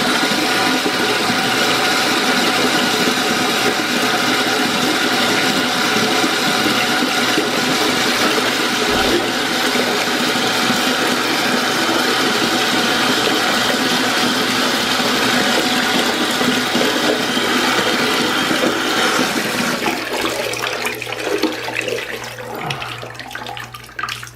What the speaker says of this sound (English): So I'm gonna add a little more hot water.